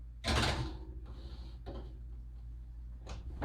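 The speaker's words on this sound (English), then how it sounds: "I'm putting these in my tap oven" Trays of cake cookies slide into a kitchen oven with a loud metallic clatter, followed by softer scrapes and clunks and one last knock near the end.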